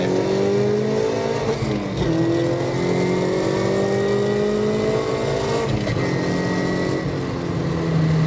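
A Mazda MX-5 NC fitted with a Rotrex C30 supercharger pulls hard after a downshift, engine note climbing steadily, dipping briefly at a gear change, then rising again, loud and close from inside the car.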